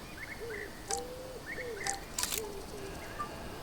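A bird chirps in the wildlife game Alba: A Wildlife Adventure, a repeated pattern of short, clear rising-then-falling whistled calls at regular intervals, soft and alone, with a few sharp clicky taps between.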